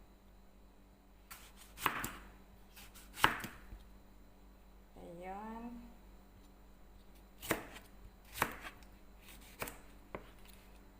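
Tomatoes are chopped for a salad with a knife on a board, giving several sharp, separate cuts at an irregular pace. A brief rising vocal sound and light background noise fall between the cuts.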